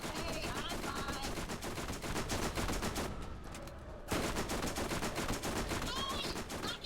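Gunfire in the video game Borderlands, dense continuous bursts of rapid shots, loud and close, with a short lull in the middle before the firing resumes.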